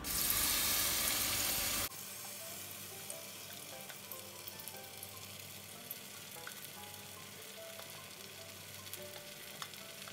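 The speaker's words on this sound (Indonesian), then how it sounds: "Tumis bumbu yang sudah dihaluskan." A loud, hissing sizzle of ground spice paste frying in a little cooking oil in a pan for about two seconds, then it drops to a quieter, continuous crackle.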